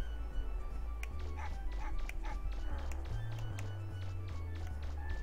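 Dog barking in the video game Megaman Legends, a string of short repeated barks spread through the clip over a steady low game drone, moderately close with no talk over it.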